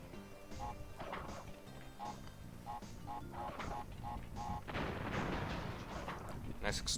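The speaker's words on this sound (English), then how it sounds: "Nice exploding minecart." An exploding minecart in the Crash Bandicoot video game, heard as a series of quiet game impacts and bursts that build into a louder crash near the end, with faint game sounds around it.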